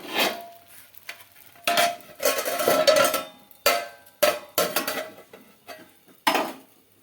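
A lid clanks onto a pan over a medium-high flame while chitoi pitha cooks, giving a series of sharp metallic clinks and clatters in irregular bursts, close by with quiet gaps between them.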